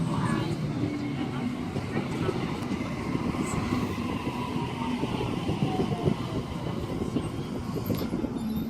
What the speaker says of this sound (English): We have yet another Series 1 Waratah arriving on platform number 1